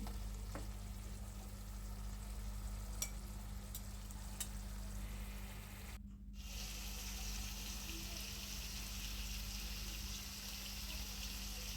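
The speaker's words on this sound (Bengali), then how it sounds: "একটু নেড়ে চেড়ে দিলাম।" Food frying in a pan is stirred, giving a steady, fairly quiet sizzle that runs continuously for the whole stretch, with a few faint clicks and scrapes.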